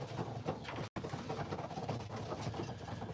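Pigeons in a breeding loft keep up a continuous low cooing chorus nearby, broken by a split-second dropout near the start.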